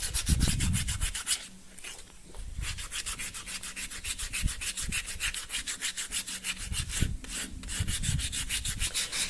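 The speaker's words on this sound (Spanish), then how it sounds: "Aquí tenemos la lija del 60, comencemos." 60-grit sandpaper rubs rhythmically over alabaster in quick, even back-and-forth strokes, close and continuous with a couple of brief pauses.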